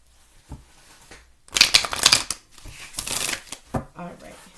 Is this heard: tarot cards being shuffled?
yes